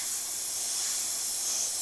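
Airbrush spraying white paint onto a sculpted tentacle, a steady continuous airy hiss that holds at an even level throughout, with no voices.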